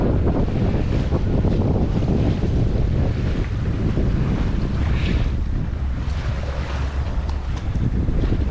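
Strong, gusty wind roars continuously across the microphone aboard a sailboat in a Maine harbor on a blustery September day, with water rushing and waves slapping the hull beneath the loud buffeting.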